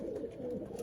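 A racing pigeon coos at a loft during a sprint race, a short, faint, low throaty coo close by, with no voices.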